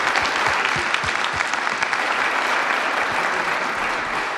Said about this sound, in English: big round of applause for Laura